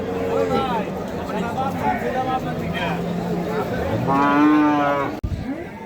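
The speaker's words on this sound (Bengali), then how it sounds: "কালামপুর হাটে খুব সুন্দর সুন্দর দুইটি গরু দেখা যাচ্ছে" Cattle moo loudly, one long drawn-out low, amid a busy crowd with people talking all around at a cattle market in Kalampur.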